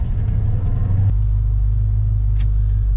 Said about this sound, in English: that's a perfect time to do a test drive